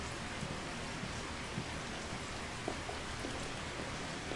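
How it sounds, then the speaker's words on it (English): Steady rain falls outside in the video game Discolored, a dense, even hiss with scattered droplet ticks and no voices. "It's raining outside."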